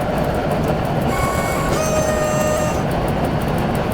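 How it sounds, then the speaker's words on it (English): Steel train wheels grind and rumble on steel rail in the Simrail train simulator game, a steady gritty roar with high metallic squeal tones rising briefly mid-clip. "you can just feel the steel wheel on steel rail. Like, you just feel the sort of the grindy, gritty sound."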